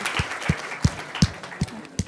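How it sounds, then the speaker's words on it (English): Scattered hand claps ring out at a women's day tech event, about six distinct claps at a slow, even pace, fairly close and moderately loud, with no crowd roar behind them. "Let's have a huge round of applause for Unnati."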